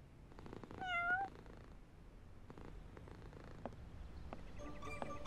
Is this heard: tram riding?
no